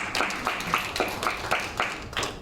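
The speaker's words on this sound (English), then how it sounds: "Give her a round of applause for bravery" Scattered audience applause from a small crowd at a dog demonstration, a modest patter of hands with a few stronger claps rising and falling at moderate distance.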